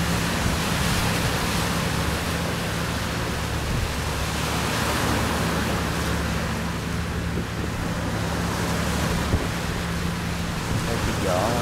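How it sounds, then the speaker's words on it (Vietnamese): Large sea waves surge and wash continuously, loud and broadband, with a low steady hum suggesting a fish-buying boat crossing the rough water nearby; no one speaks. "một chiếc vỏ thu mua đang vượt qua những cơn sóng đi qua bên kia biển nha"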